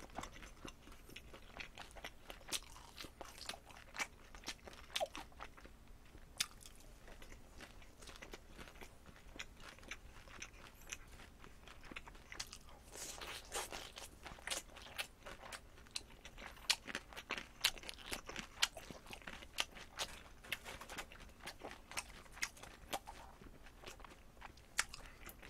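Close, crisp crunching of fried chicken and kkanpunggi during a mukbang, repeated bites and chewing in an uneven steady rhythm, fairly quiet with no talking.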